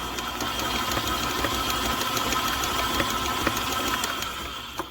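An electric mixer beats Mexican vanilla into thumbprint cookie dough with a steady, close, whirring motor hum and faint rhythmic clicks, continuous and without speech.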